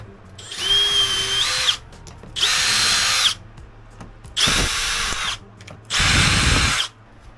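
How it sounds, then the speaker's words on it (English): A power drill whirs in four separate bursts, each about a second long, drilling holes to mount cabinets in a utility room, with short quiet pauses between them, loud and close. "how many holes are you really going to drill to put cabinets in?"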